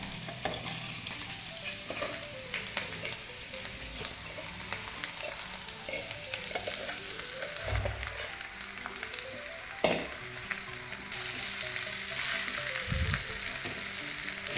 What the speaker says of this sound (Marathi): मस्त थोडासा फ्राय करून घ्यायचा